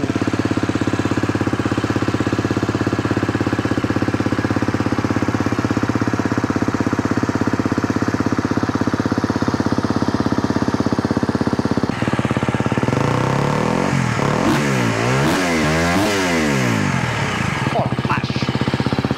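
A motorcycle fitted with a full Akrapovic exhaust system idles loud and close with a steady, throbbing note, then revs repeatedly in rising and falling bursts toward the end.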